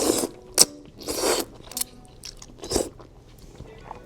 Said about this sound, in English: I have no idea how to slurp noodles